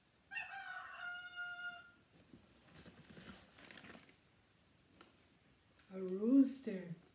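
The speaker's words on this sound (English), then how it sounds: "A rooster." A rooster crows at the start, then a quieter stretch of murmuring, and a second harsher crowing burst near the end, fairly loud and close.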